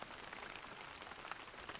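Steady autumn rain falling on a surface near a wooden hut, a dense, even patter of drops with no voices, holding at a constant level throughout.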